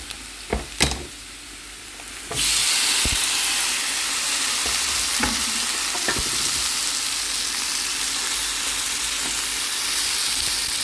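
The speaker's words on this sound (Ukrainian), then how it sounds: "Двигаємо все сюди і додаємо помідори." Tomatoes are added to zucchini frying in a pan. A couple of clacks of the utensil come first, then a loud, steady sizzle that stays up close and carries to the end with no voice over it.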